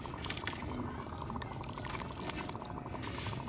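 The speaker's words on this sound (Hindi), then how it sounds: "अब मैं इसमें सर्फ डालूंगी।" Surf detergent is poured into a bucket of water at home, giving a continuous soft splashing pour with light trickling, fairly close and without talk.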